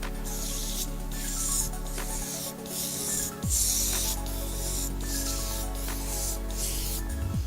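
A detail gun sprays clear polystyrene-to-EPDM roof membrane adhesive as a steady, close hiss with soft rubbing texture. The hiss runs nearly unbroken, with a brief dip and a sharper burst partway through.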